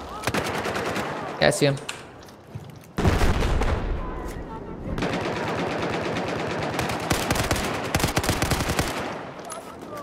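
Rapid machine-gun bursts in a Battlefield 4 multiplayer match, loud and close with steady rattling volleys and a heavy boom, while players talk over the firing.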